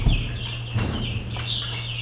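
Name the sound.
red broiler chickens clucking on farm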